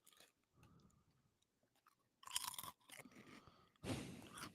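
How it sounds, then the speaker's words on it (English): Close, crisp crunching and chewing of tomato-flavored potato chips, several bursts of loud crackly bites separated by quieter chewing, with no talking. "Can you hear me crunching?"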